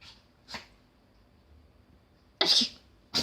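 A small dog gives a few sharp nasal sneezes up close: one quick burst, a pause, then a louder, longer sneeze followed by the start of another, with faint room noise between.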